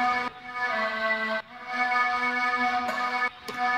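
A breathy, flute-like synth line in an electronic beat, playing held melodic notes in a few phrases separated by short gaps, steady and clear with no voices over it.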